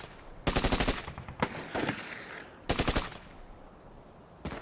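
Bursts of gunfire traded between soldiers camped on opposite banks of the Rhine, 1940: two rapid machine-gun volleys plus a few scattered single shots, sharp and fairly close, with no voices.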